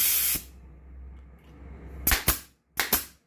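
A Hais nail gun fires nails, giving sharp pneumatic snaps in two quick double bursts after a loud opening hiss of air, close and clear with no talk.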